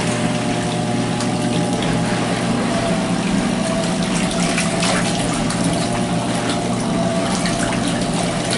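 A Laundry Alternative Superpop washer runs its five-minute rinse cycle, with a steady motor whir under continuous sloshing and rushing water. It stays constant and close throughout, with no talking.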